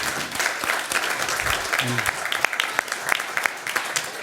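Audience at a city council meeting applauding a championship-winning boys' team, a steady wash of many hands clapping at moderate volume throughout.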